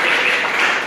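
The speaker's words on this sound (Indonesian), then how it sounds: "Tepuk tangan aja" Students in a university lecture hall clap together in a short, dense burst that sounds loud and close.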